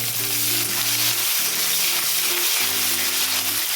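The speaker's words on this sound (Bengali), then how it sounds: "পেঁয়াজটা একটু ভেজে নেব লাল লাল করে" Onions frying in hot oil with cumin seeds and bay leaves for a cabbage and fish-head curry: a loud, dense, continuous sizzle close up, with faint steady tonal sounds beneath and no speech.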